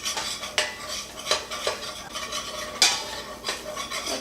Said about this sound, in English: I'm going to add my flour and mix it around so I am essentially browning my flour